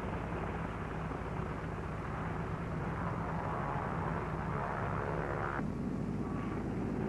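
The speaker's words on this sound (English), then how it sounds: "Navy F-6F mother control planes are catapulted from the carrier's flight deck." Navy F6F Hellcat planes launched by catapult from the flight deck of the aircraft carrier USS Shangri-La at sea, heard as a steady, loud roar of aircraft engines and wind that holds throughout, with a slight shift near the end.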